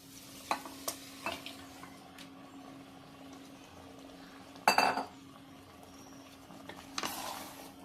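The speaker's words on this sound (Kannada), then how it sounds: "ಹಾಕಿ ಚೆನ್ನಾಗಿ ತಿರುಗಿಸೋಣ." Fried mutton chops with masala are stirred in a pan, with spaced metallic scrapes and clinks of a utensil against the pan over a faint sizzle, plus a louder rattling scrape midway.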